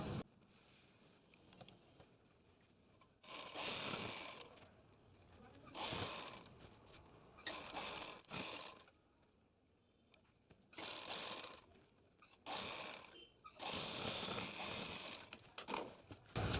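A sewing machine runs in several bursts of stitching along the buckram edge of a suit neckline, with pauses between runs; fairly close and moderately loud.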